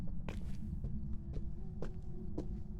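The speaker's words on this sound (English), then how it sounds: "I hear footstep sounds." Ghost footsteps during a hunt in the horror game Phasmophobia, a handful of soft, irregular thuds spaced across a steady low hum, fairly muffled and not very loud.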